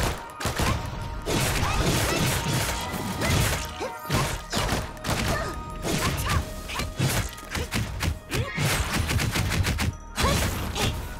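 Gunfire from weapons in the video game Honkai Impact 3rd comes as dense, loud bursts of rapid shots and crashing impacts, nearly continuous with brief gaps.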